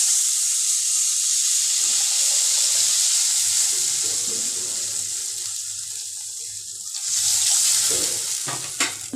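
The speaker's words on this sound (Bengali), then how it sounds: "এবার আমি এর মধ্যে দিয়ে দেব 3 কাপ পরিমাণ জল।" Water is poured into a pan of fried potatoes with turmeric and salt, producing a steady loud hiss and sizzle that fades into bubbling, then flares again near the end with a few clinks.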